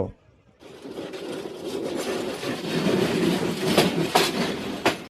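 A passenger train runs on the line from Dhaka toward Sylhet via Sreemangal. After a brief hush, a steady rolling rumble rises and fills the rest of the clip, with a few sharper rail clacks toward the end.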